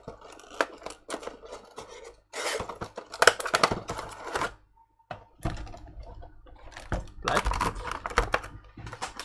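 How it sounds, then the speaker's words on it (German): Packaging from a subscription loot box unboxing crinkles, crackles and rustles in irregular close bursts with short quiet gaps between, fairly faint overall. "Das Rumgeknarze hier und das Rumgeknistere und das Rumgedingens."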